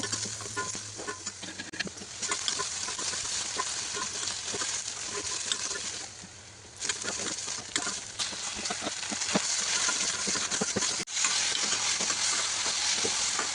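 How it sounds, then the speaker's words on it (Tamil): Garlic, ginger, onion and tomato sauté in oil in a kadai with a dense, continuous sizzle and frequent stirring scrapes, briefly easing off before returning loud and close. "ஒரு கடாயில் எண்ணெய் ஊற்றி பூண்டு, இஞ்சி, வெங்காயம், டொமேட்டோ ஆட் பண்ணிவிட்டு நல்லா வதக்கிக்கோங்க"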